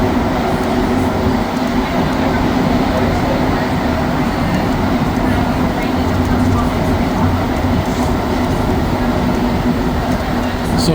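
Montreal metro train at around 1 a.m., running between stations on the line from Montmorency toward Lionel-Groulx; a loud, steady rumble and rattle of the car with sustained low tones, heard from inside, continuous throughout.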